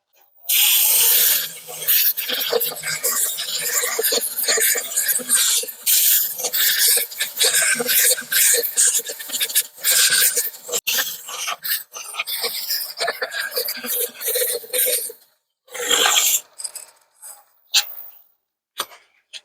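Sandpaper rubs against a turned wooden piece spinning on a lathe, a loud continuous hissing rasp that carries on steadily for most of the stretch before trailing off in a few brief bursts.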